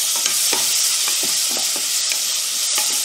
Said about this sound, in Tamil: இதெல்லாம் ஒரு நிமிஷம் ஃப்ரை பண்ணிக்கலாம்.